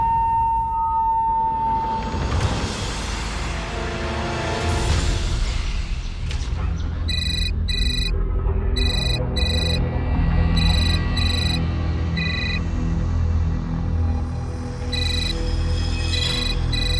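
A phone rings in a repeating electronic pattern of short bursts, several rings in a row, fairly clear over a background of dramatic TV music and low rumble.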